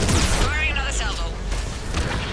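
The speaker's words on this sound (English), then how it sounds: "Firing another salvo." Missile salvo launching from a gunship in Mass Effect 3, loud booming whooshes in quick succession followed by rushing streaks, with radio chatter over the top.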